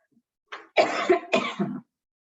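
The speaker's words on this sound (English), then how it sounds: "Little cough." One person coughs up close in a few rough, throaty bursts, with a short cough followed by two longer hacking coughs, all within a second or so in an otherwise quiet room.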